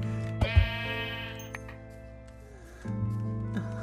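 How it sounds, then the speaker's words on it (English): A Minecraft sheep lets out a clear nearby bleat, with a second shorter bleat later, over faint game ambience. "There's a sheep in front of me."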